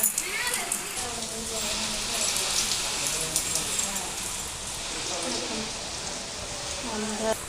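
Steady, dense hiss of heavy rain pouring down throughout, with voices talking underneath.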